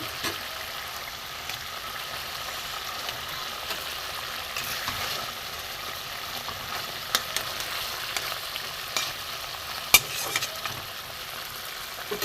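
Fish frying in a mustard and poppy seed paste gives a quiet continuous sizzle and bubbling, with a few soft stirring clicks and one sharper tap, without talk.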